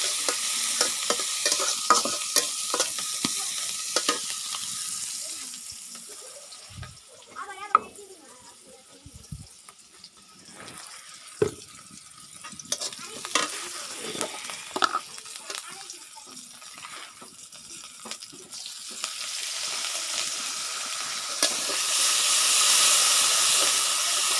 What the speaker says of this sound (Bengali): এই যে হলো আমি পেঁয়াজটা ভাজতেছি